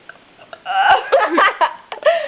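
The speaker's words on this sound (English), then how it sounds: "You can make yourself burp." A person forces out deliberate burps: a few loud, voiced belches in quick succession, recorded close with nothing else in the background.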